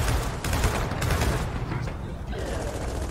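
Hammer Burst rifle fire in Gears of War 4 comes as loud, dense volleys of rapid shots with mechanical clatter, holding steady throughout and dipping briefly near the end, with a voice underneath.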